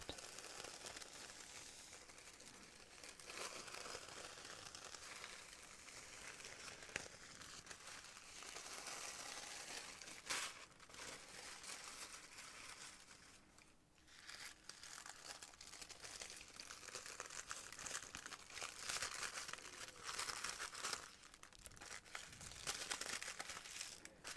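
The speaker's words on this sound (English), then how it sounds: "They're different stiffness, so they make different crackly sounds." Very soft tissue paper is handled close by, crackling and rustling continuously with brief quieter pauses, and no one speaks.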